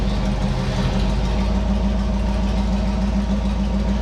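A Chevrolet C20 engine idles steadily with a low, even rumble and a faint ticking texture, loud and continuous throughout with no voices.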